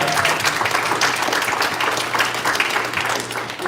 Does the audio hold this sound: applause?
yes